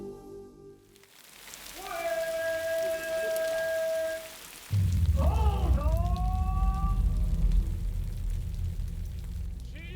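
Heavy rain falls at the Guan Yu Temple Fair in Haizhou, Shanxi. A dense, loud, steady roar sets in abruptly partway through and continues to the end, and some tonal sounds come before it.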